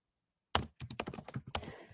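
Quick, close clatter of keystrokes on a computer keyboard, about a dozen crisp taps in an uneven run, starting abruptly after silence.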